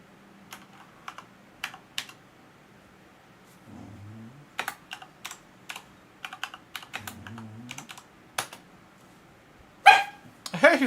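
Keys on a computer keyboard are tapped in short irregular bursts of clicks, close and distinct, with a small dog's barks and soft voices in between.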